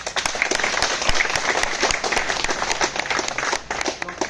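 An audience at a protest sit-in outside a selection commission claps in steady, continuous applause, a dense patter of many hands that fills the whole stretch with no pauses and no speech over it.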